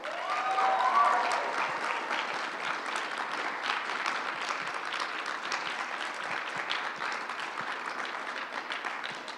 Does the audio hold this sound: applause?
yes